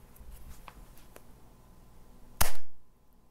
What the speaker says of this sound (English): Just for grins, I'm going to try the border to one of these picture frames.